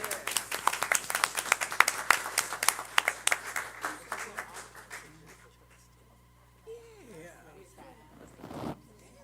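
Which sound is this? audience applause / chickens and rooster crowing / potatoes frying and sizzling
audience applause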